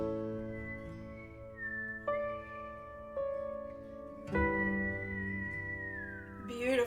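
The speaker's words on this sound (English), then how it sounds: "Beautiful whistling" Melodic human whistling with sustained, sliding notes, steady and fairly clear, with a couple of sharp accents along the way and no talking.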